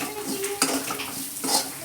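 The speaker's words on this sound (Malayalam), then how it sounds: "ഇതെല്ലാം കൂടി വറുക്കുക." Mint leaves and spices being fried and stirred in a pan: a spoon scrapes and clinks against the metal in irregular strokes over a faint, quiet sizzle, with no talking.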